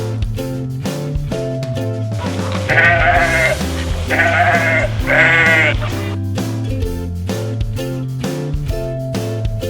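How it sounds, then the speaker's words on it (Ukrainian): A sheep bleats three times in a row over a steady background of music, each bleat loud and wavering. "Це вівця."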